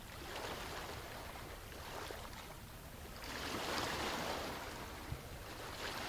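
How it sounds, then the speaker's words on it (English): Ocean waves wash onto a shore lined by a rock wall on one side, a soft, steady rushing hiss that swells in the middle and eases again, faint and continuous with no voices. "Listening to the sound of the waves"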